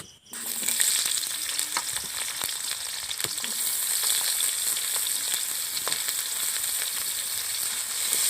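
Chopped onions hit hot oil in a wok (kadai) and burst into a loud, continuous sizzle that holds steady throughout, with scattered crackles and no talking.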